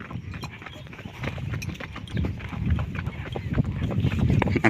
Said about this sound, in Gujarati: ડાબલા હે ને હમણાં બહુ ગાજતા નથી